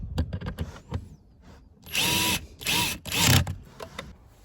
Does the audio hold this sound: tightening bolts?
yes